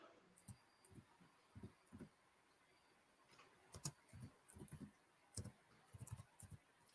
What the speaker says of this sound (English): Sorry if you're hearing clicking.